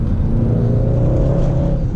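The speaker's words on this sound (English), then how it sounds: "Getting up to 60 is no problem in this car, as you might imagine. And it still feels unbelievably quick." A 2013 Mercedes C63 accelerating, its engine note a loud, steady drone heard from inside the car, rising slightly in pitch as it pulls without any talking.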